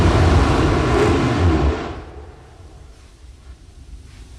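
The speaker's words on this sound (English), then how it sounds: "we had ignition of our engines" Relativity Space's Terran 1 rocket engines ignite in a loud, broad roar that holds for under two seconds, then drops away to a faint, rumbling background.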